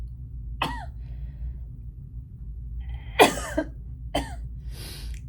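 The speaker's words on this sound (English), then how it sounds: "I'm so sorry for all the coughing." A woman coughs several times in short, sharp bursts spread across a few seconds, close and fairly loud against a quiet indoor background.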